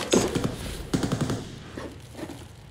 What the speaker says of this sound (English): Some gunshots.